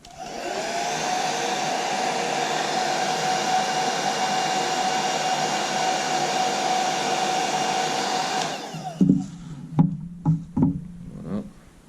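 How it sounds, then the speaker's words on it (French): Hair dryer blowing to soften the hard varnish on a spinning fishing rod during disassembly, a steady loud whirring roar for several seconds that cuts off, followed by a few sharp knocks and handling clatters. "je vais ramollir un petit peu en utilisant le sèche-cheveux"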